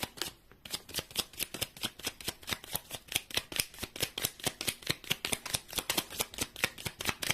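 Tarot cards being shuffled in a steady, rapid rhythm of crisp riffling slaps, close and clear, with no voices over it.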